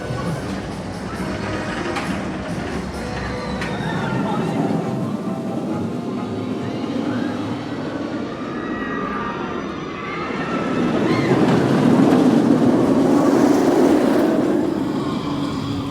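Nemesis Reborn roller coaster at Alton Towers running a ride, a steady broad roar of rushing track and wind that swells louder toward the end, with faint voices mixed in.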